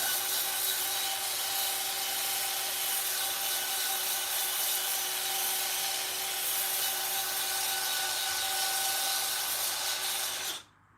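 Sandpaper rubbing against a spinning live edge wood bowl on a woodturning lathe, a steady continuous hiss with the lathe's motor hum underneath, close and loud throughout before stopping abruptly near the end.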